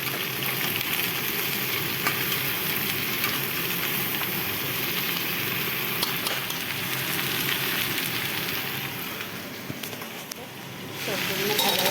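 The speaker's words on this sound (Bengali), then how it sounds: "সবজিগুলো ভাজা ভাজা হচ্ছে।" Mixed vegetables and their seeds fry together in a pan for sour dal, giving a loud, continuous close-up sizzle that eases slightly near the end before swelling again.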